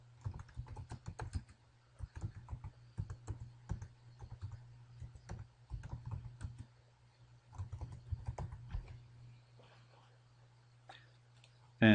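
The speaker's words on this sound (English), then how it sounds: "Also need to type correctly." Someone types steadily on a computer keyboard in fast bursts of close, crisp key clicks separated by short pauses, over a constant low electrical hum.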